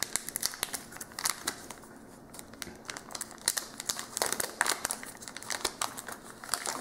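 A foil wrapper on a Bottom of the 9th baseball card game pack is torn and pulled open, giving close, steady crinkling and crackling with sharp tearing bursts throughout.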